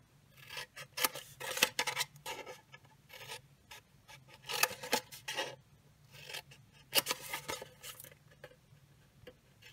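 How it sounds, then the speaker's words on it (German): Scissors cut designer paper side panels for a small papercraft box, giving quiet, close, irregular snips and rustles with pauses between. "Und ich schneide jetzt die Seitenteile bis zur Kreuzung hinein."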